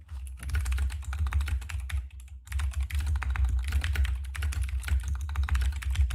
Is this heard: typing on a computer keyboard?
yes